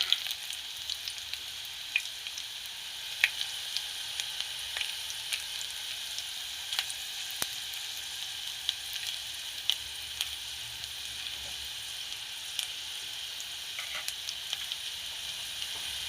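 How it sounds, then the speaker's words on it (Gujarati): Garlic sizzles steadily in hot oil in a pan while phag bhaji is being made, a soft continuous hiss with faint crackles and no talking. "એમાં આપણે લસણ એડ કરી દેવાનું આ રીતનું"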